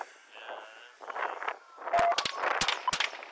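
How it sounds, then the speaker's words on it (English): Ammunition cooking off inside a burning car on a roadside, heard as several sharp, irregular pops and cracks that grow denser toward the end, over a steady roar of fire. "The heat from the fire forces ammunition in the car to combust."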